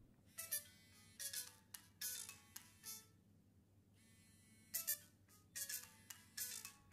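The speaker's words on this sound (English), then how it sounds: "And now let's play some ringtones and check the speaker." Ringtones play from a Nokia 3310 speaker after a water test, with repeated bursts of bright melodic tones separated by brief pauses; the sound is faint and tinny.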